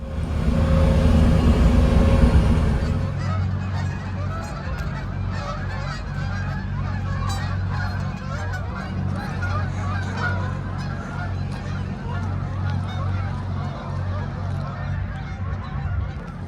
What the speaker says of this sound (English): there has to be over 100 geese in this one flock.